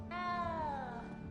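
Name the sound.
cat meowing in the video game Hogwarts Legacy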